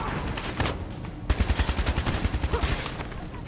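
Gunfire in the video game Call of Duty Black Ops 3, a sustained rapid automatic burst with rhythmic shots and dense battle noise around it, loud and continuous.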